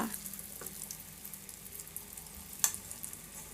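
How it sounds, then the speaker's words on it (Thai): A butterfly pea flower omelette fries in hot oil in a pan, sizzling steadily with a soft crackling hiss, a brief clink partway through, and no voices. "ตั้งกระทะใส่น้ำมันลงไป รอให้น้ำมันเดือดแล้วก็เทลงไปเลยค่ะ"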